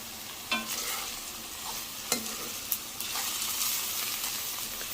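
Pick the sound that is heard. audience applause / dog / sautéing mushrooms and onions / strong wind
sautéing mushrooms and onions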